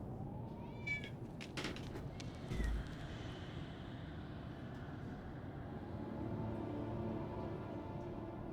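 A cat in a Dune survival video game gives a couple of short, faint meows early on over a low, steady rumble of ambient game noise.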